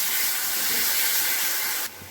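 Onion paste sizzles loudly in hot oil with dried red chillies and black cumin in a wok, a dense, steady hiss close up that drops off sharply near the end.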